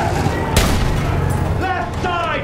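Battlefield 1 battle with gunfire and explosions, a dense bed of shots and booms with one sharp crack, under excited talk.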